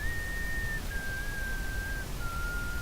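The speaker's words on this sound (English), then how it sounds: "I have no idea who's whistling." A whistled tune from the video game Consortium: a few sustained notes, each gliding slightly lower than the one before, played at an even volume over a steady low hum with no voices.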